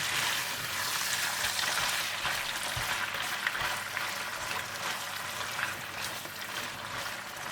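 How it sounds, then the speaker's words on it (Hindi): Chicken pieces frying with browned ginger in a pan give a steady, hissing sizzle that runs throughout at moderate volume, with occasional soft clinks and stirring. "और जब अदरक हल्की सी ब्राउन हो जाए तो आप इसमें चिकन डाल दें। और इसे अच्छा सा फ्राई कर लें।"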